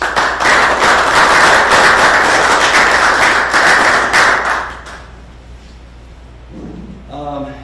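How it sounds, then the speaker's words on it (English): An audience at a Lindsborg city council meeting gives dense, loud, close applause that runs for about five seconds and then tapers off, followed by someone speaking. "let's take a second and just applaud"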